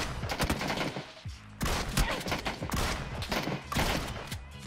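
Repeated DBS shotgun blasts in PUBG, several loud bursts in quick succession separated by brief pauses, with gunfire echoing close by and no talk.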